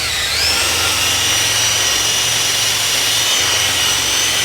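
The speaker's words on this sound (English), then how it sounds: "it gives you an example how this can get right in between there with a 2-inch buffer, right around the lug nuts" A power drill spinning a 2-inch polishing ball buffs an oxidized aluminum car wheel around the lug nuts, giving a loud, steady whirring hum with a high whine throughout.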